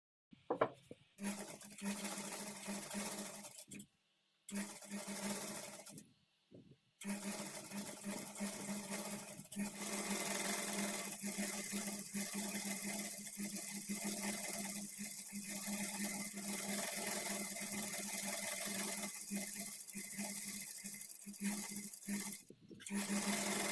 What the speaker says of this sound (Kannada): ಈ ಕ್ಲಾತನ್ನು ನಾವು ಒಂದು ಕಡೆ ಈ ಥರ ಫೋಲ್ಡ್ ಮಾಡಿ ಸ್ಟಿಚ್ ಮಾಡ್ಕೊಳ್ಬೇಕು